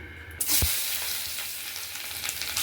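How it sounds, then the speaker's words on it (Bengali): Chopped carrots dropped into hot oil burst into a loud, close sizzle that settles into a steady hiss for the next couple of seconds. "প্রথমে গাজরগুলো ছেড়ে দিলাম"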